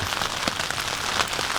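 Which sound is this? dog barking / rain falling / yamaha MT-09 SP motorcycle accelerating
rain falling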